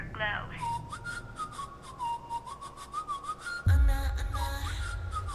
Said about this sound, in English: Sort of hooky whistle intro here.